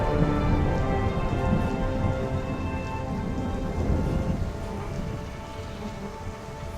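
Steady heavy rain and rolling thunder from a storm in an Age of Empires III: The Asian Dynasties cutscene, a loud continuous wash with low rumbles and no voices.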